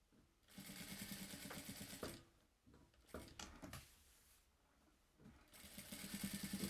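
Sewing machine stitches a safety seam all around a fabric cover for a vaccination booklet, running in several steady bursts with brief pauses between them, with no talking.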